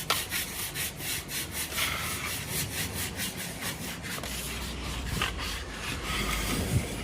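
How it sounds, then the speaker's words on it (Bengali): Steady, rhythmic rasping of a plastered wall being rubbed smooth by hand on a construction site in hot sun, repeated scraping strokes close by and fairly loud, with no talking. "কত সুন্দরভাবে ঘষছে দেখা যাচ্ছে আমাদের দেয়ালটাকে। তো ঘষে মসলিন করে দিচ্ছে।"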